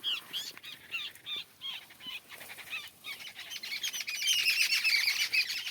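Babblers call loudly on a farm in Kodagu's Malnad hills, a run of close, harsh chattering chirps that thickens into a dense squawking chorus toward the end.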